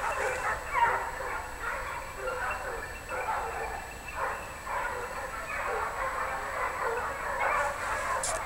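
Pack of hunting dogs, Fauves and Anglo hounds, baying on a wild boar chase in the woods, a steady chorus of overlapping yelps and barks at mid distance, continuous with a faint hum and light background chatter.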